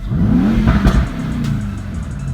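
A 2019 Mercedes E63S 4Matic engine in race mode revs hard close up, rising to a roaring peak and settling into a throaty idle with crackles from the exhaust.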